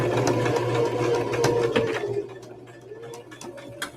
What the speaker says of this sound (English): And I'm back tacking it at the end just for the simple fact to make sure it don't go nowhere.